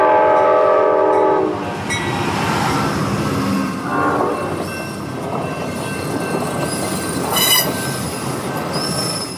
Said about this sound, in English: I'm thinking it's a train coming at me.